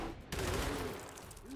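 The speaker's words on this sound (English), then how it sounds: "They're gonna shoot McDonald" Gunfire during a Gears Tactics battle, a burst of shots and impact noise starting abruptly and trailing off under the game's ambient sound.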